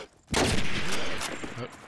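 A burst of gunfire in a competitive video game match, heard after a moment of quiet, runs as a loud rattling volley with a commentator's voice over it.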